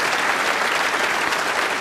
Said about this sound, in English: And warmly appreciated by the crowd, which contains a sizable section of her supporters.